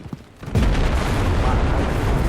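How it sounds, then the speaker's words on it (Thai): Explosions in the World War II shooter game Enlisted, with a sharp burst followed by a heavy, sustained rumble of booms and blasts that stays loud to the end. "เสียงระเบิดทุ๊บปั๊บอยู่ดี"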